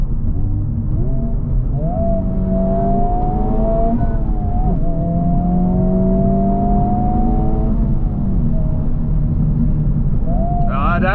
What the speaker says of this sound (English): I'll downshift to second and then we'll take off.